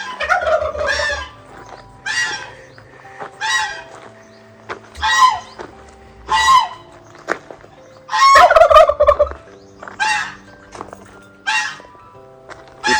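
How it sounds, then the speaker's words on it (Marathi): Farm turkeys gobble loudly and repeatedly in rippling bursts at a Chandoli farm stay, with some clucking fowl mixed in close by and brief pauses between calls. "इथं असे चिनी कोंबड्या आहेत, राजहंस आहे"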